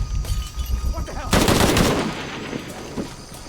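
Gunfire in the video game Shadow of the Tomb Raider: a dense burst of rapid shots crackles up close for about half a second, then trails off into scattered noise, with voices talking faintly around it.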